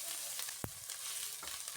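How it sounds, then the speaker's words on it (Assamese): Chopped onions fry in mustard oil with bay leaves, a quiet continuous sizzle with a sharp stir or scrape partway through. "পিঁয়াজখিনি এতিয়া ৰঙচুৱা হোৱালৈকে ভাজিম।"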